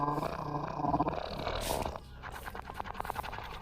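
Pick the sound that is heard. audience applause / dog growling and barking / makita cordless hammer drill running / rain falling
dog growling and barking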